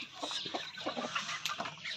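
A native chicken clucks in short, repeated soft calls at close range against a faint background hiss.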